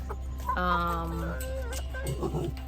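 Chickens clucking nearby in a brooder, a few drawn-out calls followed by shorter clucks, fairly loud over a steady low hum.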